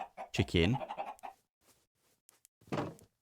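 Chicken in a farming video game, a few sharp clucks near the start and another burst near the end, with brief quieter sounds between, clear and close.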